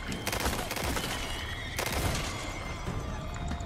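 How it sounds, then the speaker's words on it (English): Gunfire in the Resident Evil 4 remake video game, aimed at shooting out a light: a burst of sharp shots early on, then another crack near the middle, over a busy game background. "I thought I could shoot that light out"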